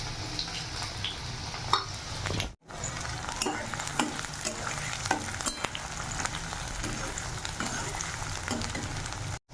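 Garlic, onion and ginger frying in oil for tadka dal, a dense, steady sizzle with stirring scrapes and spatters, one brief drop near the start, no speech.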